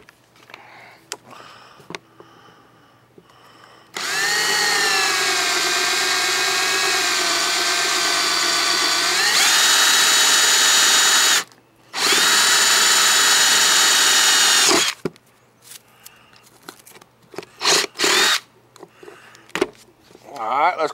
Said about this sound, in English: I'm going to drill a hole in my clean out cap, the same size as my Schrader valve